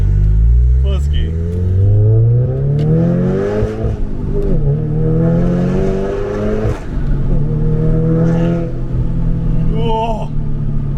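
Manual Audi S3 accelerating hard in first gear, engine note climbing steadily in pitch with a gear-shift dip midway, loud and close inside the cabin while people talk over it.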